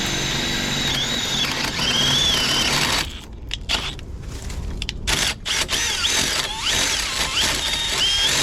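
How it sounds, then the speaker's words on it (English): A drill with a 1 1/8 inch paddle bit bores through a lumber rim joist, a loud continuous motor whine with pitch shifts as the bit bites and slows, broken by brief grinding interruptions midway. "next I have to go through the lumber, the rim joist, and I use a 1 1/8 inch paddle bit to do the trick here."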